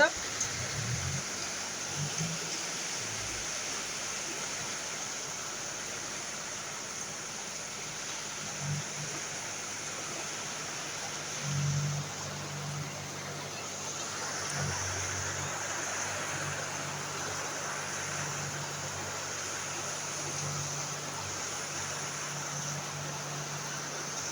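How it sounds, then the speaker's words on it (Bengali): Steady, dense hiss of heavy rain falling around a house during a prolonged downpour, continuous and broad throughout, with low murmurs and brief thumps beneath it. "কি পরিমাণে বৃষ্টি হচ্ছে দেখতেই পাচ্ছ"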